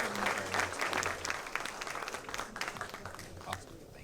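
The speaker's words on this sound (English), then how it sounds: "a round of applause for the candidates for Ninth Quarter of Appeals" An audience at a political forum applauds candidates for a court of appeals, steady clapping that fades gradually toward the end, with some scattered voices mixed in.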